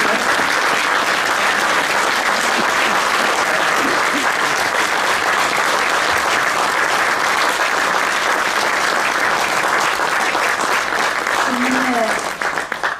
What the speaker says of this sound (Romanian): Vă rog să-i aplaudăm!